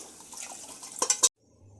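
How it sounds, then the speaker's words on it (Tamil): Water pours steadily into a pot of meat-cooking water for Ambur beef biryani, splashing louder toward the end before cutting off abruptly, followed by quiet. "அதில் நீங்கள் 6 கப்பு தண்ணி ஊற்றிக்கோங்க."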